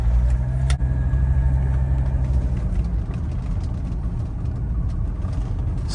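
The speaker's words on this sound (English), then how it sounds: "so sounds like a diesel." A 1983 Mercedes-Benz 300CD turbo diesel with 42,000 miles runs on the road, a steady low engine drone heard from inside the car, with a brief knock near the start and no talk.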